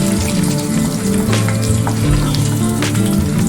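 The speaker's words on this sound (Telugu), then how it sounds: "జీలకర్ర శనగపప్పు కొంచెం వేగాక అప్పుడు ఎల్లుల్లిపాయలు ఎండుమిరపకాయలు కరివేపాకు" A loud, crackling tempering sizzles close by as cumin, chana dal, garlic, dried chillies and curry leaves fry in hot oil. The spattering is dense and continuous, with a low steady hum beneath it.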